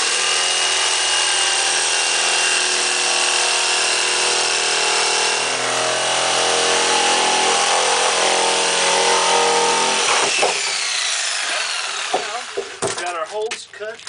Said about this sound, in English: Now we get our jigsaw.